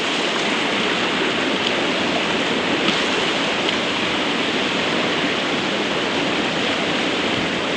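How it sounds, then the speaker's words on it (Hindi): A large mountain waterfall pouring down a rocky slope on a rainy trek to Rudranath, a loud continuous roaring rush of water, steady and close, with no voices. "देखो कितना बड़ा झरना आ रहा है"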